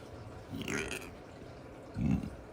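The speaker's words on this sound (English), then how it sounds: "Ooh, I have to burp." Two close, low burps from a man, a short one followed by a louder, fuller one about a second later, in an otherwise quiet room.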